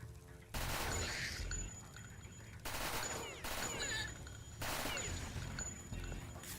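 Submachine gun fire in a video game: several rapid bursts of automatic shots, loud and close, separated by short quiet gaps.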